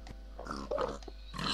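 A pig in the video game Minecraft grunts and oinks when attacked, a few short, fairly close squeals and snorts in quick succession over low background noise.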